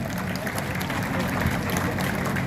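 A rally crowd at a historic site in Chittorgarh claps loudly and steadily, a dense continuous wash of applause with faint voices mixed in.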